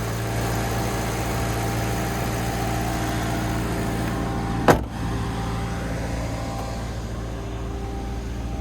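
The 4.7-liter V8 of a 2016 Maserati GranTurismo Convertible Sport idles with a steady low rumble, close by, broken by a single brief click partway through, with no talk.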